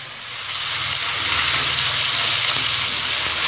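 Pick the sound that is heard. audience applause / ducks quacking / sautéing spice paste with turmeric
sautéing spice paste with turmeric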